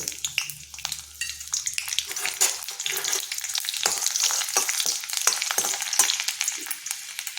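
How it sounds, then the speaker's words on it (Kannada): Cinnamon leaf and chopped garlic frying in hot oil for blue pulao, a close, bright sizzle that builds and holds steady with scattered crackles, a low hum underneath at the start, and no talking. "ಈಗ ಎಣ್ಣೆ ಬಿಸಿ ಆಗ್ತಾಯಿದೆ ಅದಕ್ಕೆ ಚಕ್ಕೆ ಎಲೆ ಮತ್ತು ಬೆಳ್ಳುಳ್ಳಿ ಹೆಚ್ಚಿರೋದನ್ನು ಹಾಕ್ಕೊಳ್ತಾ ಇದ್ದೀನಿ"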